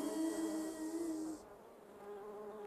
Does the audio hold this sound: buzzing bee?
yes